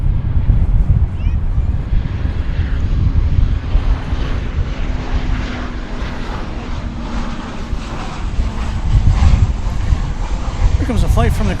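An airliner arriving at DFW Airport on a flight from Turks and Caicos roars loudly and steadily for the whole stretch, a broad rumbling wash with faint voices underneath.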